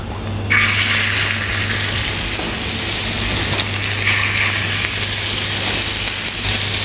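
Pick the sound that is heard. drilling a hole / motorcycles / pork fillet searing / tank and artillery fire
pork fillet searing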